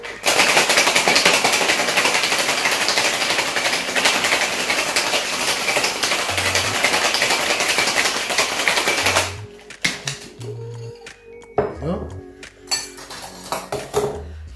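A metal cocktail tin packed with ice is shaken hard for a mezcal drink, a loud, fast, continuous rattle for about nine seconds, then it stops and scattered clinks and knocks of handling follow.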